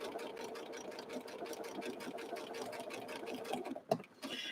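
A sewing machine runs a zigzag stitch along the edge of a quilt over batting, a quiet, even rapid whirring close by that is briefly interrupted near the end.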